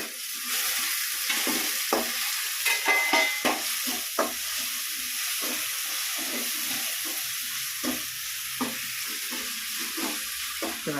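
Ground tomato fries in a pan for mushroom thokku, a steady sizzling hiss with scattered light taps and scrapes of a spoon, close and moderate in level, with no one talking.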